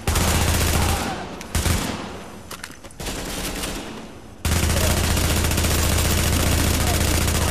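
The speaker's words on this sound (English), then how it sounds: "I'm shooting you with my whole clip" Sustained automatic gunfire from an emptied magazine in The Division's Dark Zone, loud and dense bursts with a brief lull in the middle before a heavy continuous barrage resumes.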